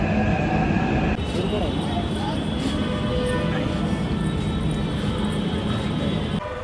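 A Hyderabad metro train rolls along with a constant, loud rumble and hum inside the carriage. Faint, indistinct voices sit beneath the steady noise.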